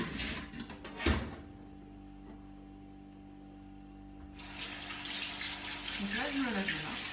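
Water poured from a tap into a pot of marinade during home cooking, a broadband rushing stream that starts partway through and runs steadily under a voice speaking over it.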